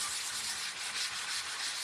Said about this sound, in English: So I'm just going to do a light sanding on it.